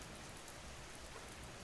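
Rain falls in a dense, unbroken hiss, even and steady throughout with no voices.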